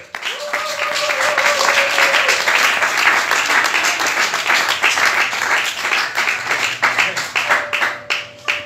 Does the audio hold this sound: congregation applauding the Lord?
yes